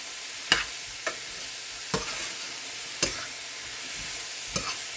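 Spices such as turmeric, red chilli and coriander-cumin being stirred into a millet flour batter for dosa, heard as a few sharp, close scrapes or taps of a spoon against the bowl at irregular intervals, with no talking.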